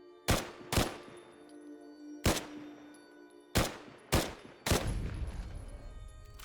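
Gunfire in Fallout 4, six sharp, loud single shots spaced unevenly over several seconds, each with a brief ringing decay and the last followed by a rumbling tail.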